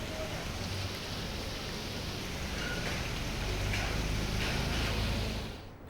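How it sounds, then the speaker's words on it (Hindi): Heavy, steady rain falls across a region of the state, a dense continuous hiss that holds loud and unbroken for several seconds before easing off at the end, with no voices over it. "झमाझम बारिश तमाम प्रदेश भर के इलाकों में देखी जा रही है"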